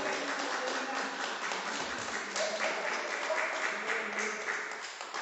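A church congregation applauds together in steady, sustained clapping that fills the room and tapers slightly at the end.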